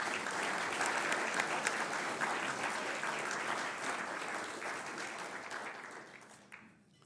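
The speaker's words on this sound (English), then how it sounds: "A round of applause for our head table." An audience at a press club luncheon applauds the head table, a sustained round of dense clapping from a sizable crowd that holds steady, then gradually thins and fades out near the end.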